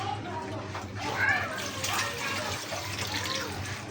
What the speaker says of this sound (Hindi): थोड़ा सा पानी ऐड कर लेंगे